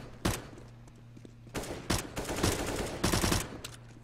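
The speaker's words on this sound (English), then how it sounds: "It's an AK." Automatic AK rifle fire in Counter-Strike on the Mirage map, several loud bursts of rapid shots spread across a few seconds, with a steady low game hum in between.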